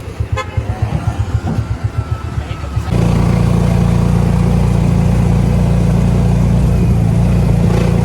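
A motorella, a local motorcycle-taxi of Camiguin, puts along with a pulsing engine that surges into a loud, steady drone as it pulls away, and a horn toots briefly while people talk nearby.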